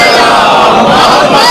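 A mosque congregation at a Shia majlis loudly chanting salawat in unison, a dense, loud, sustained crowd roar that fills the whole moment.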